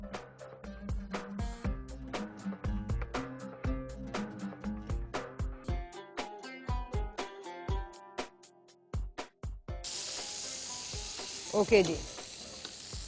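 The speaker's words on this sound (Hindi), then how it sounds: "मछली को पकाना बहुत ही आसान है। आप उसको एक साइड से अच्छी तरह कुक करें" Fish fries in a hot pan. After a stretch of plucked, rhythmic music, a sudden loud sizzle bursts in near the end and hisses steadily for the last few seconds.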